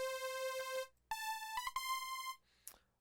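A bright synth preset called Citrus plays a short run of clean, buzzy tones, a sustained note followed by quick plucked hits, alone and fairly soft.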